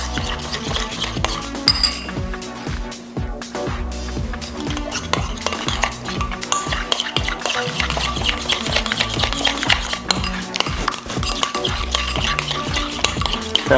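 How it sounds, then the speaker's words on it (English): Burger sauce and relish mixed in a bowl with a utensil: continuous, brisk stirring with wet squelching and faint clinks against the bowl, close and fairly loud, with no speech. "I'm gonna mix that up."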